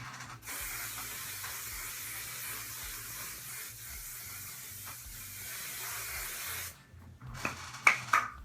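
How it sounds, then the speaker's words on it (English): Hairspray goes on a made-up face in one long, close, continuous aerosol hiss lasting several seconds, then a pause and a few short bumps and clicks. "I'm gonna use hairspray to set my face."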